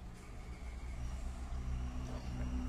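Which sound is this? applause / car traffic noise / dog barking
car traffic noise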